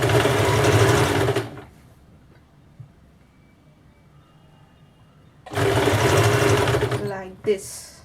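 A sewing machine stitches a quarter-inch seam along the edge of blouse fabric, running loud and steady in two bursts separated by a quiet pause, the second burst ending with a brief clack.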